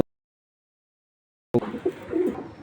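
Racing pigeons coo close by in a loft, a burst of low throaty calls that starts abruptly after a long silence and carries on in soft repeated phrases.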